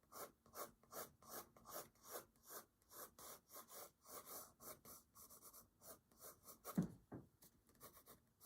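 Graphite pencil strokes drawing individual hair strands of a horse on paper, a steady run of short, close, soft scratchy strokes repeating in quick rhythm, with one brief louder tap near the end.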